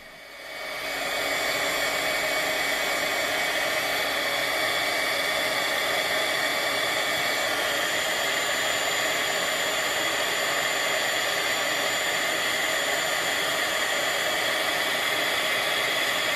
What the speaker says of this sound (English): So now we can apply the heat using our heat gun.